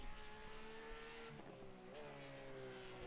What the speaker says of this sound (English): Love the sound of these Porsches as well.